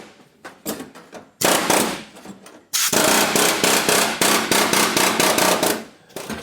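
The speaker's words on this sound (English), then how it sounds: "So I'm going to get the air hammer out and blast this." Pneumatic air hammer blasting apart a suspension brace on a 1937 Lincoln Zephyr, loud rapid metallic hammering in bursts, with a short pause before a longer sustained run that cuts off near the end.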